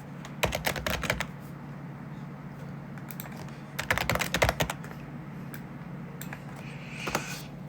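Fingers type on a computer keyboard in quick clattering runs of keystrokes, with short pauses between runs, close and clear over a low steady hum.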